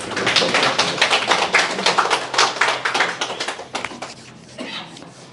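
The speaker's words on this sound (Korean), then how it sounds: "우리 박수로." A small group at a workshop in Ulsan claps close by in a quick, uneven patter of sharp hand claps that thins out and softens toward the end.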